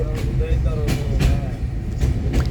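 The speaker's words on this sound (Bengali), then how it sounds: "ট্রেন ছুটে চলছে" A train running along the rails on the Dhaka to Rajshahi route, heard from inside a carriage as a steady, loud rumble with rhythmic clatter, while people talk over it.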